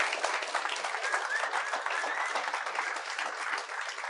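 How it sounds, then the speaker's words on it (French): A live audience at a comedy podcast taping claps steadily for several seconds, a dense patter of many hands, moderately loud and heard without any talking. "J'aimerais ça qu'on les applaudisse."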